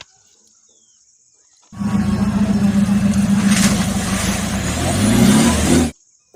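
A Mahindra Jeep toy car lets out a loud, steady engine-like roar for about four seconds, starting abruptly and cutting off sharply, with a rising pitch toward the end.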